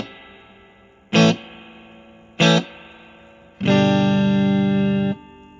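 Electric guitar played through a Traynor DG15R amp with reverb set about a third, giving two short struck chords and then a longer sustained chord that rings with a reverb tail; no voices.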